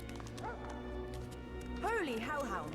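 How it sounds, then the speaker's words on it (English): Hellhounds in the fantasy role-playing game Divinity Original Sin 2 bark and yelp in short bursts, including a louder whining cluster near the end, over a low game background. "Holy hellhounds! Those dogs sound out for blood."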